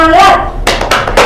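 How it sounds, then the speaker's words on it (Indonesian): A short spoken phrase gives way to three sharp, rhythmic hand claps, the 'tepuk janji fokus' focus clap led by a primary-school teacher during a classroom microteaching session. "Bu Guru punya tepuk janji fokus."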